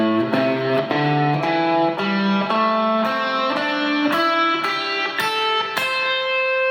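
A distorted electric guitar climbs a minor pentatonic scale note by note at a steady pace, each picked note ringing clearly with no other instruments.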